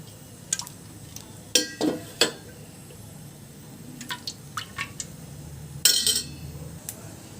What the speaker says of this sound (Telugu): 3 చెంచాలు నీళ్ళు వేసుకుందాం